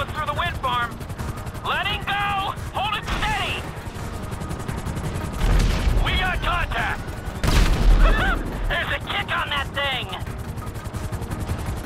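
During a heist mission in a video game, gunfire cracks as rapid bursts and heavier volleys over a low rumble. Voices talk throughout the shooting.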